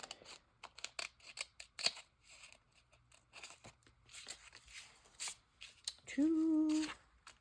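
Scissors snip through craft material in a series of short, crisp cuts scattered across the moment, close and fairly quiet, followed near the end by a brief louder tonal hum.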